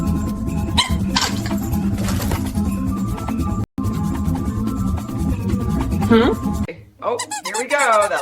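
A pup squeezes a squeaky toy ball, producing a few high, rubbery squeaks amid steady background sound, with brief whimpering and vocal noise near the end.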